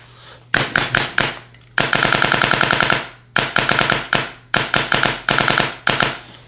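A Dye DSR paintball marker fires in sharp, loud bursts: a few quick single shots, then a rapid string, then more short volleys separated by brief pauses.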